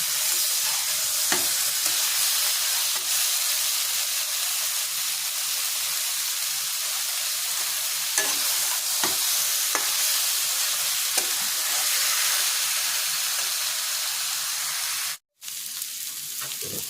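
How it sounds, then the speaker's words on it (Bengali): Green jackfruit stir-fried with spices in a pan: continuous loud sizzling and hiss, with occasional scrapes of stirring and a brief dropout near the end, no voices. "একটু আমি ভালো করে কষাই এখন।"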